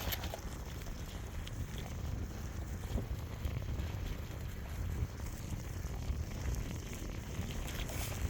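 Cold wind blows outdoors on an overcast day, a faint, steady rushing with gusty buffeting against the microphone that continues throughout without any speech.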